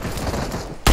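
Gunfire in the battle royale game BGMI: a steady rattle of rapid shots runs throughout, ending in one loud, close blast right at the end.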